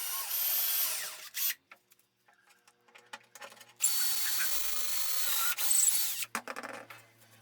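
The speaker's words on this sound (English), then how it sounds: "I drill 2 holes." Drill boring dowel holes in a wooden frame through a doweling jig, two separate whirring runs of a few seconds each, broken by quiet handling clicks and knocks.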